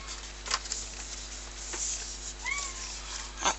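A pet cat meows indoors, giving a short pair of rising and falling cries over a quiet room hum, with faint soft rustles and ticks around them.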